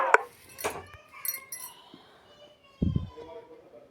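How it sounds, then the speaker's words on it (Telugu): Metal spoon clinking and scraping in a cooking pot while mutton and onions are stirred together, a few sharp clinks and a thud, with a voice talking nearby. "వేసుకొని మంచిగా ఆనియన్స్, మటన్ కలిసేలాగా కలుపుకోవాలి."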